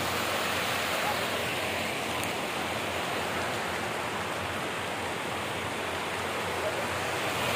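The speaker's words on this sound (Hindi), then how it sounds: "झाग बनाता हुआ कलकल करता हुआ सुंदर दृश्य" Water cascading and foaming at Nishat Garden in Srinagar, a steady, dense rush of falling water that stays close and fairly loud, with no breaks throughout.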